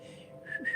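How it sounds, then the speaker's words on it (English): A person trying to whistle, producing a faint, breathy tone that wavers briefly and thinly for under a second, close to the mic. "I can almost whistle."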